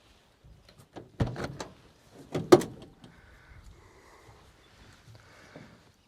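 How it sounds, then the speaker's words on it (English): Cab doors of a Kamaz truck being opened: a few sharp clunks and latch knocks close by, followed by softer rattles and faint mechanical movement, with no talking. "let's open the doors"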